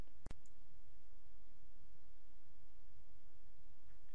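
A single sharp mouse click early on while working in a software tutorial, followed by quiet background hiss.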